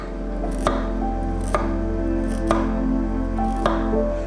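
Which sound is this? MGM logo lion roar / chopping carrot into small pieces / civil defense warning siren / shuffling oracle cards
chopping carrot into small pieces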